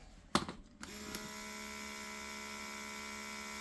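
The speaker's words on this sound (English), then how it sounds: "So now, same jar, different vacuum sealer." A vacuum sealer pumps air out of a glass food storage jar, starting after a couple of sharp clicks and settling into a steady, unchanging mechanical whine and hum heard up close.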